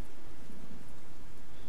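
Steady rain in a Walking Dead video game scene, a continuous soft hiss of falling drops with no voices, even and unbroken throughout.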